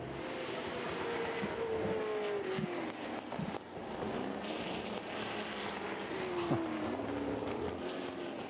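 Ford GT40 race cars battling closely at the Le Mans Classic historic race, a continuous engine drone with rising and falling pitch sweeps as the cars pass, steady and fairly distant throughout.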